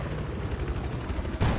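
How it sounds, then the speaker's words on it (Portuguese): A helicopter passes overhead in the video game Battlefield 4, its low thudding rotor churn mixed with bursts of game gunfire and a sharp loud hit near the end. "Olha o helicóptero ali onde tá passando."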